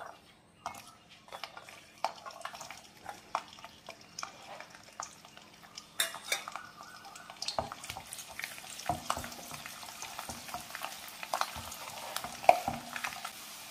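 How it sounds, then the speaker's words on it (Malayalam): Garlic frying in hot coconut oil, with a spoon stirring and scraping the pan and sharp clinks of metal over a soft, steady sizzle. No one speaks. "അതിലേക്ക് ആദ്യമേ വെളുത്തുള്ളി ഇട്ടൊന്ന് വറുത്ത് പോരാം."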